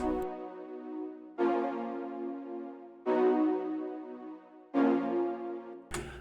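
Sustained synth chords built in Serum from detuned sine and saw waves with seven unison voices, four long held chords in sequence, each entering with a soft swell and ringing fairly quietly.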